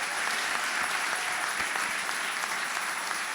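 A church congregation applauds and cheers steadily throughout, a dense, loud wash of clapping with no pauses, heard from within the crowd.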